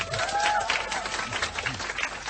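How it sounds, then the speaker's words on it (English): Studio audience applauding panelists on a radio show, a brief burst of close, fairly dense clapping with a few voices mixed in. "A big round of applause for your panelists"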